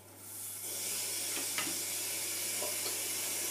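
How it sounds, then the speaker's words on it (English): Cold water runs steadily from a tap over soap-making equipment, a bright continuous hiss with a few brief splashes and clatters as items shift under the stream; a low hum sits beneath. "I would suggest that you run them under cold running water"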